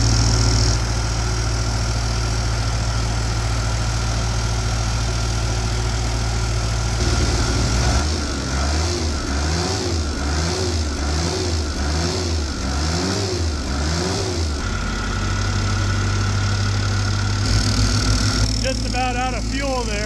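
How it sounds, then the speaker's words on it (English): A tired, smoky Mustang skid loader engine runs steadily close by, its low throbbing drone rising into a pulsing rev midway before settling back, with a person talking over parts of it. "I think the engine's a little tired."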